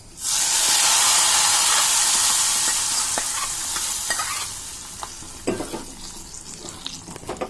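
A loud burst of sizzling as hot tempering is poured into sambar, the hiss gradually fading into softer bubbling and a few utensil clinks.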